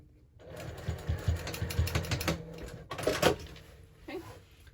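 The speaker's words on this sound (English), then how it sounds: "I'm just going to go ahead and put like a little stitch as close as I can get to the connector over here" Sewing machine stitching close to the connector on a bag strap for a hobo bag, a rapid mechanical whir in short bursts with pauses between runs, close and fairly quiet.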